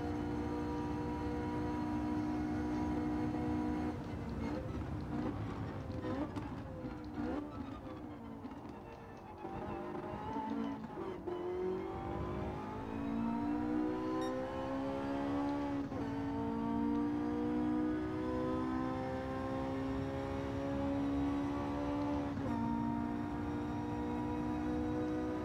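A Porsche 918 Spyder races in Gran Turismo 7, its engine droning hard and steady, with a dip around the middle where it backs off before revving up again, plus light tire noise.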